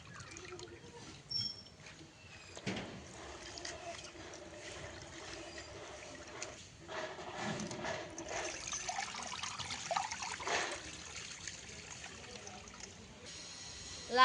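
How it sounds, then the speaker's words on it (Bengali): Red amaranth greens rinsed under running water in a kitchen, with intermittent splashing and a soft trickle that grows steadier partway through. Close but quiet, with brief handling clatter and no talking. "এই দেখো শাক ধুয়ে নিচ্ছি"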